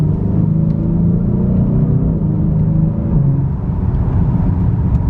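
A Genesis sports car engine rumbles loudly and steadily from inside the vehicle, its drone rising and shifting as it accelerates.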